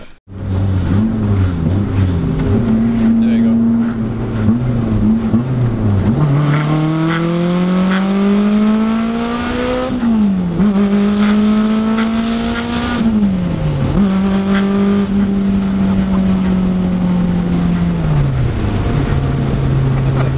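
A supercharged Honda S2000 making about 420 wheel horsepower accelerates hard, its engine note loud and close and climbing repeatedly through the revs, with brief drops at each gear change over a sustained run.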